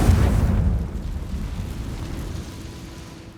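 A Confringo blasting spell explosion in the Hogwarts Legacy video game: a single loud, deep boom that rumbles and slowly fades away, heard alone.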